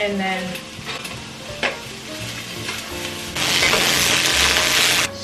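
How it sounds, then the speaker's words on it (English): Onions cooking in a pot for ramen give a steady sizzle with stirring scrapes and a few clinks, the frying hiss growing louder and brighter in the last seconds, with a brief spoken phrase early on. "I have onions that are in the pot now, so those can cook"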